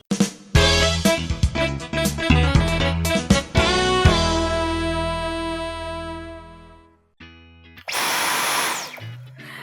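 A Dyson V11 cordless vacuum cleaner runs with a loud whirring motor that shifts pitch several times, stops briefly, then restarts with a harsher, higher whine.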